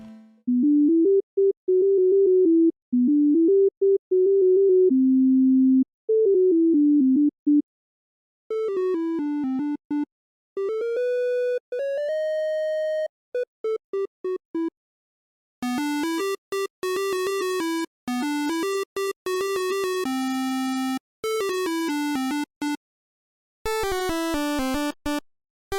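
Simple chiptune melody from an early home video game console sound chip, the same fragment repeated in several waveforms: first a soft pure tone, then brighter buzzy square-like timbres, finally harsh noisy versions, each phrase separated by brief silences.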